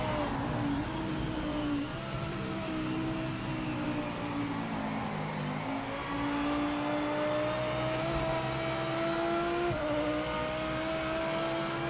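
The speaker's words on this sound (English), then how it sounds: "The general tone of this car doesn't sound bad." Race car engine in Assetto Corsa EVO, a steady droning whine that rises and falls with throttle and gear changes, loud and continuous throughout with no talk over it.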